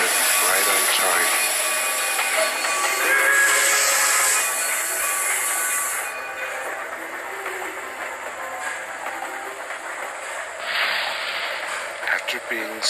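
Locomotive 311 hauling log cars arrives at a mountain logging camp, a loud, broad hissing rumble with bright high steam or brake noise that eases after a few seconds, then flares briefly again, with a voice speaking over it.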